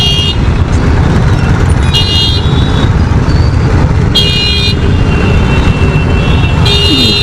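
Heavy road traffic in a jam near Barrackpore and Khardah, with a loud, steady engine and road rumble and several car horns honking in short bursts, close by and far off.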